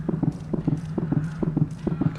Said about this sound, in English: I do hear some sort of plippy-plappy noises of some footsteps going about